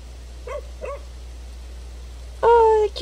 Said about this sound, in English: Cute little doggy.